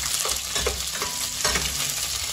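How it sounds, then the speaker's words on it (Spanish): Chopped onion sautéing in hot oil in a pan for a mushroom dish, a steady close sizzle and crackle with faint stirring, no talking. "Ya está caliente el aceite, vamos a citronar un poco de cebolla."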